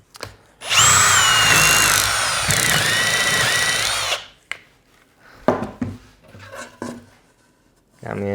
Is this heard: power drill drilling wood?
yes